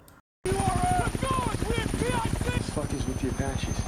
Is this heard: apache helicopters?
yes